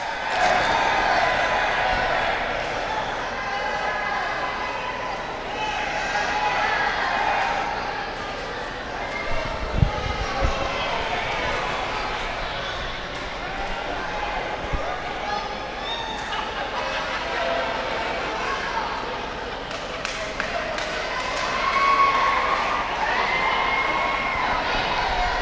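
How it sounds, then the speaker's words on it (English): A large indoor wrestling crowd in Monroe roars and cheers continuously during a four-way tag title match, with shouts and whistles rising and falling, and a few thumps beneath the noise. "Listen to this crowd."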